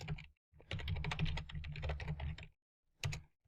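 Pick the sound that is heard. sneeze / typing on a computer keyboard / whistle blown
typing on a computer keyboard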